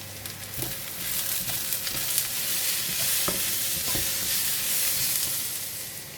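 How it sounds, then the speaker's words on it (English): Steady crackling sizzle of onions and ginger frying in a hot pan, with occasional stirring scrapes and clicks, close up and continuous. "While the onion is frying"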